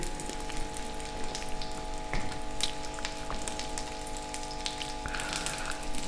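Shami kebab patties fry in a pan with oil, giving a soft, continuous sizzle and scattered light crackles and pops, close and steady with no voices.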